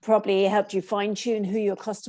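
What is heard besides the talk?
No everyday noise stands out behind the speech.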